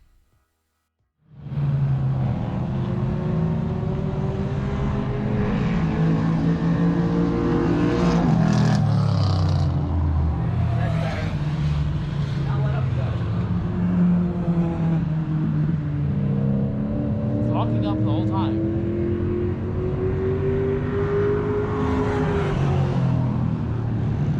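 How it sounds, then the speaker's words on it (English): A Lemons endurance race car, a Mustang-based build, runs practice laps at MSR Houston, Texas. Its engine drones loudly and continuously, rising and falling in pitch through gear changes, with no talk. "We gave the Lustang a once over, checked the fluids, and then headed out to do some practice laps."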